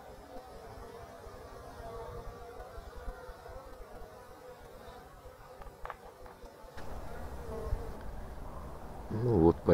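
Honey bees from package colonies sourced from Maykop hum faintly and steadily around hives at an apiary beside a house, with some louder rustling near the end.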